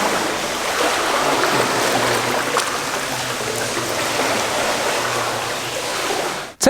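Continuous splashing and sloshing of water in a pool, rocked side to side to build big resonant waves, a dense steady wash close by that ends abruptly.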